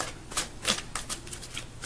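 Tarot deck being shuffled at close range, a quick run of soft papery riffles and flicks repeating every fraction of a second without speech.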